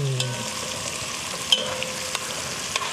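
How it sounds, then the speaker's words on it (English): Crawfish tails sizzle as they are stirred and heated in a pan for jambalaya. A steady frying hiss runs throughout, with occasional sharp clicks of the spoon against the pan. "we just wanna kind of heat it up, get the crawfish hot. Stir that around."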